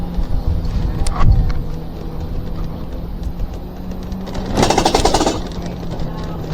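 Upgraded motorbike engine straining up a very steep mountain road, a loud close rattling drone with uneven throttle pulses and a brief harsher burst partway through.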